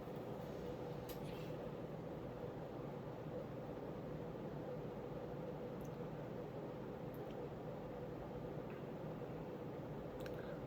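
A grey JCPenney ceiling fan with iron blades pitched around 12 degrees spins at about 210 RPM, giving a steady, even whoosh of moving air with a faint hum and occasional light ticks, alone with no talking.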